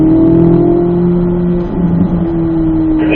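A Corvette Z06 engine drones steadily under load on a race track, a constant loud, close hum with a slight dip and recovery midway, with no voices.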